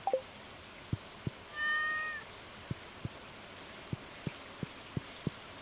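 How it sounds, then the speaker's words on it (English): A single clear cat meow in the Stardew Valley video game, near and fairly loud, set against steady rainfall with regular soft drip ticks throughout. "So I can pet the cat today."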